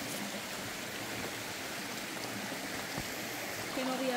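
A river stream flows at El Pilón in San Germán, its steady broadband rushing close and continuous, with a hint of a voice near the end.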